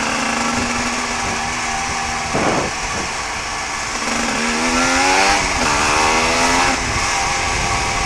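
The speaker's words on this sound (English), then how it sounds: "the bike has got some kick in it, but nothing that you wouldn't expect from a 2-stroke 125" A 125cc two-stroke motorbike engine drones steadily while riding, its pitch climbing and falling through gear changes, with a brief rough burst near the middle and loud, close wind-buffeted engine noise throughout.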